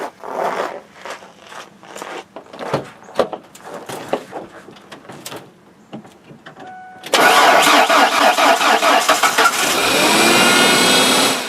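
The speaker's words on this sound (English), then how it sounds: "Hit the boost and let's see if she'll crank." A car engine in polar-vortex cold cranks with boost from a Gooloo G1500 heavy-duty jump starter: rustling and clicking handling first, then a loud, sustained churning crank that carries on to the end.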